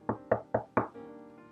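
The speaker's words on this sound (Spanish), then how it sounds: "lo sorprendió un golpe en la puerta" Four sharp knocks on a door in quick, even succession, close and fairly loud, followed by a brief ringing decay, with no voices.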